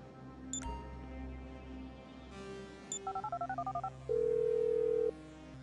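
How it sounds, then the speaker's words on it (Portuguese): A phone in the video game GTA 5 is dialed: a couple of short beeps, then a rapid run of about ten keypad tones, followed by one long, steady dial tone over faint game background sound. "Telefone."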